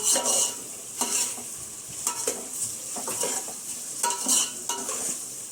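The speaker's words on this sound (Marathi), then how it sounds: "हे बघा आपला कांदा चांगला लाल होऊ द्या." Onions frying in a pot for biryani, stirred again and again: irregular scraping and clinking of a spoon against metal over a continuous sizzle, close and moderately loud, with no voices.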